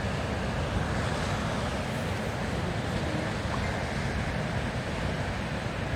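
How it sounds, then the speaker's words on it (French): Ocean surf washes steadily onto the shore at Tapia de Casariego, a fishing village on the coast, a continuous broad roar mixed with wind buffeting the microphone, with no distinct breaks. "Là, les vagues là-bas."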